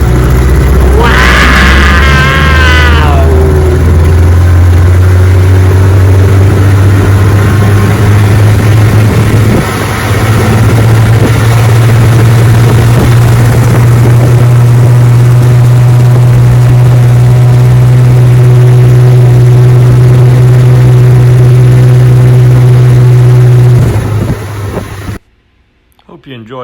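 A restored vintage Johnson outboard motor runs on a bayou test run, a loud steady drone that revs up early then holds, cutting off near the end, with people talking over it at first.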